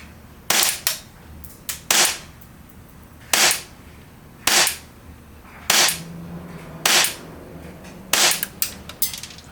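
An AAP01C Shinobi airsoft pistol fired through a chronograph, giving eight sharp, close snapping shots spaced about a second apart, each a crisp crack with a brief mechanical rattle.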